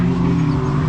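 Polaris RZR Pro EFI UTVs racing side by side on the Glamis sand dunes, a loud steady engine drone with strong harmonic hum, close and continuous with no talk.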